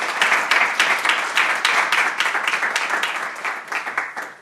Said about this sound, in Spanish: así que un fuerte aplauso para Nerea y para el Zaskun.